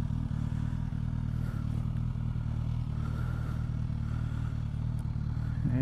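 A Suzuki Katana motorcycle engine running steadily close by, a loud, continuous low rumble with slight rising revs toward the end as the bike pulls away.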